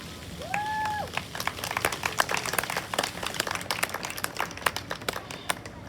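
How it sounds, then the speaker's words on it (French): Audience applause following a patriotic speech, a swelling patter of many hands clapping that builds and holds steady, with a faint tonal whistle at the start. "Applaudissons-le."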